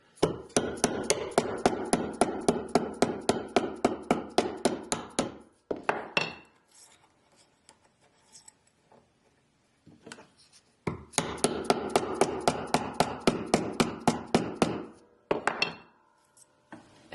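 A gold and silver bezel for a garnet cabochon ear stud is tapped around a small jump ring mandrel: rapid, evenly spaced metallic hammer taps in two long runs separated by quieter handling, close and sharp.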